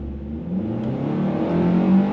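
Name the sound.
2024 Hyundai Sonata AWD engine accelerating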